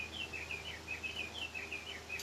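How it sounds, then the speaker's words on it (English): A bird clock's chime plays a recorded bird song of quick, high, warbling chirps in close repeated bursts, fairly clear against a faint indoor background hum. "Hear that bird? That's my clock."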